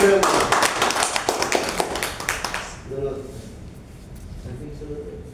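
An audience claps for a leader coming onto the stage, a loud dense burst of applause that fades out after about three seconds, with a voice talking over the clapping and after it.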